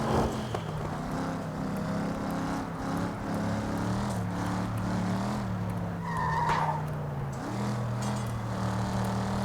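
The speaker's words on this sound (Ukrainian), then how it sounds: "Машинка, давай, розганяйся." Race car engine in the Flatout 2 derby-class racing game, a steady loud drone that rises and falls in pitch as it accelerates, with tire skids and brief squeals between, no talking.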